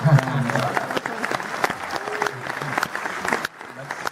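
Audience applause at a television awards panel event, moderate clapping from a crowd with voices and murmuring mixed in, tapering slightly near the end.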